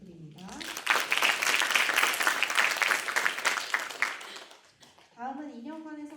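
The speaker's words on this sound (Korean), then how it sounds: "큰 박수 부탁드립니다." An audience at a graduation ceremony breaks into loud, sustained applause lasting several seconds, then fades as a voice begins speaking over the last of it.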